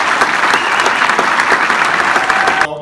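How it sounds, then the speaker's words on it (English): A crowd at a high school basketball team sendoff applauds loudly and continuously, a thick roar of clapping that cuts off abruptly near the end. "let's give a round of applause."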